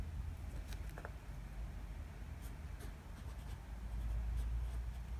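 A fountain pen fitted with a titanium medium nib scratches steadily across paper, a soft continuous rustle beneath a low background hum with no talking.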